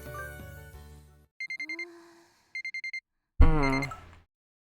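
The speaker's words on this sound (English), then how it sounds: "The alarm woke me up." A video game alarm clock in Black Lily's Tale rings in two short bursts of rapid electronic beeps, separated by a pause, between tonal in-game sounds and a brief effect at the end.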